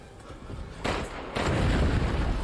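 Red barrel blowing up amid gunfire in a Resident Evil game, with a sharp burst near 0.8 s, a second heavier blast around 1.35 s, then sustained loud rumbling noise.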